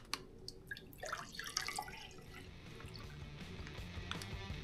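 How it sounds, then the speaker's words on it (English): Water from an MRE pouch poured into a big 12-ounce glass, a faint trickling, splashing stream with a few sharp drips at the start, then a steady soft fill, quiet and close. "We'll probably just pour it in the glass."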